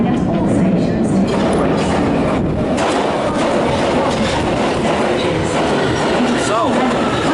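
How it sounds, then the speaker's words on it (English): London Underground Victoria Line train rumbling loudly and steadily throughout, with a continuous broadband roar of wheels and carriage noise and faint clatter, heard from inside or beside the moving train with a voice partly under it. "The next train will be a Victoria Line service calling at all stations"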